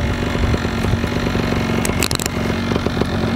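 A Vittorazi paramotor engine runs loud and steady while warming up, a continuous close mechanical drone with a few brief sharper rattles.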